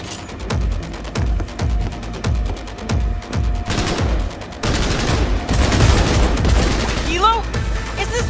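Rapid bursts of gunfire in the video game Cyberpunk 2077, loud and repeated in rhythmic volleys, with heavier sustained firing toward the end under a busy combat soundscape.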